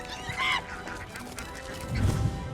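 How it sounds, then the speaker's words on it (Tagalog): Ducks give a few short, nasal honking quacks at close range over a low background murmur, in a rural Philippine setting ahead of a cooking challenge. "Ito po yung mga itik"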